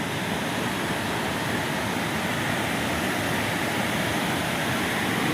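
Strong floodwater gushes through Wawa Dam, a loud, dense, unbroken roar of rushing water that stays constant throughout, close by with no voices.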